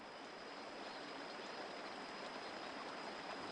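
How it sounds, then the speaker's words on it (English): Continuous rushing water of Jimbar Waterfall in the Simien Mountains roars evenly throughout, a dense steady wash of falling water with no other sounds. "The name of the waterfall is Jimbar Waterfall."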